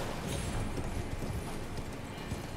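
Horse hooves clip-clopping in Elden Ring, a steady muffled trotting rhythm beneath a dense low rumble of game ambience, with no talk over it.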